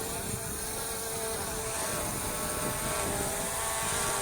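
A FIMI X8 drone from 2019 approaches outdoors, its rotors producing a steady, loud high-pitched buzzing whine that holds constant throughout.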